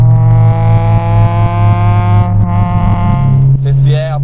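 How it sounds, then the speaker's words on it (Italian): Honda Integra Type R engine breathing through a Spoon exhaust, a loud, steady, resonant drone held at fairly constant revs for about four seconds, with a slight shift in tone near the end. "Un capitolo a parte meriterebbe il suono di questo motore con lo scarico spoon."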